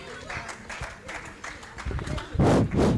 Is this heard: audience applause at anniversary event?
yes